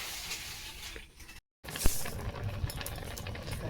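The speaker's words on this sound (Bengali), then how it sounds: "দেখো আমার ডাল কিন্তু খুব সুন্দর ফুটে গেছে" Dal (lentils) boiling in a pot produces a continuous hissing, bubbling roar at close range, briefly cutting out before resuming with a few sharper pops.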